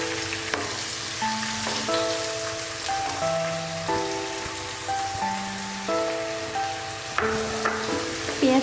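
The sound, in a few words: chopped onions and green chillies frying in hot oil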